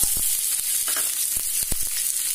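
Onions, two large ones, frying in two spoons of refined oil for a yogurt-style dum aloo, giving a steady close sizzle with a few sharp crackles and stirring scrapes.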